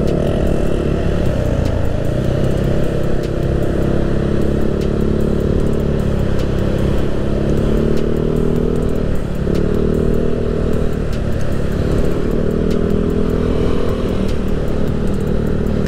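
A Yamaha Aerox scooter with a 200cc bore-up engine and aftermarket exhaust on a test ride, giving a loud, steady, close engine drone with a rounded exhaust note and slight pitch rises as it accelerates.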